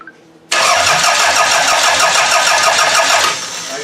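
A rebuilt engine is turned over on the starter after a brief quiet moment, catching abruptly into a loud, steady running roar that holds for a few seconds before dropping slightly in level.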